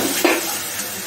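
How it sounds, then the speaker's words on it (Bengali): Spice masala with onion and garlic frying in a pan, a short close sizzle with one brief stir or scrape, alone. "মশলাটা ভাজা হয়ে গেছে"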